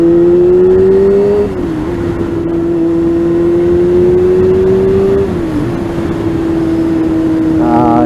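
A first-generation Yamaha R6 motorcycle hums loud and near while riding, its engine holding a steady drone that dips briefly twice as revs shift, without talk.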